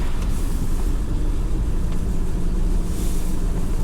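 Steady low road rumble from a moving 1968 Rover P5B after a greased joint reduced underbody scraping noise, continuous and fairly loud, with broadband noise and no voices.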